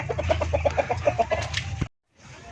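Several chickens cluck nearby in quick, choppy bursts, busy and overlapping, before the sound cuts out briefly and resumes faintly.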